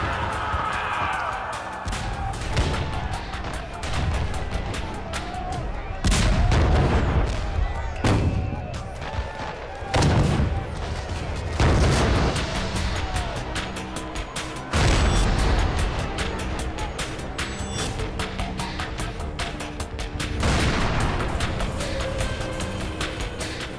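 Gunfire and artillery booms from a staged Battle of the Alamo, with repeated heavy blasts and crackling shots over a dense, loud battle din, and several big impacts standing out.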